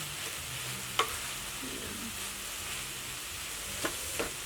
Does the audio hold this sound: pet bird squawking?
no